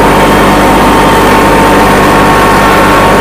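A small Kubota mini tractor engine runs steadily while tilling soil on a farm, a loud close-up rumbling drone with a constant low throb and no breaks, heard alone without talk.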